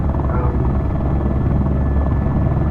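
A Eurocopter AS350 B3 (H125) helicopter in a flight simulator game gives off a loud, steady turbine and rotor drone in the cockpit, continuous and unbroken throughout, with no speech over it.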